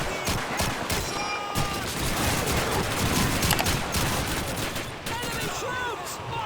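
M1 Garand rifle fire in the video game Call of Duty 2, with sharp shots fired in quick, repeated bursts over dense battlefield gunfire and clatter throughout.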